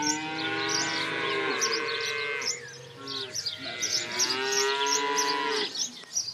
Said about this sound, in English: farm has 230 cows